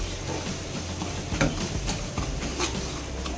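Freshly ground spice paste fries in hot oil for a dal recipe, a soft steady sizzle and hiss with a few scraping stirs of a spoon against the pan, fairly quiet and close.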